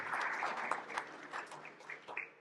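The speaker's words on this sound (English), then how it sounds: "big round of applause there" A morning breakfast event crowd claps in a brief, fairly faint round of applause that swells and then tapers off over a couple of seconds.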